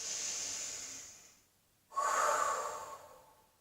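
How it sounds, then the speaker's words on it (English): Two big, deep breaths during a Tibetan Rites exercise: a long airy inhale fades out, then after a pause a strong, close exhale with a breathy hiss. "Take some big breaths."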